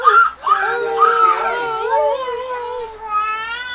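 Drawn-out yowling and wailing cries rise and fall in pitch, loud and close, like cats squabbling, continuing without pause.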